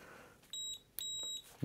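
Two short, high electronic beeps from a multimeter continuity test, each lasting about a quarter second, sound faintly in a quiet room before a voice begins.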